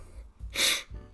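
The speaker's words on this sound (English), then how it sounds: "I'm gonna sneeze." One person sneezes close by: a quick catch of breath, then a single sharp, breathy burst that fades fast.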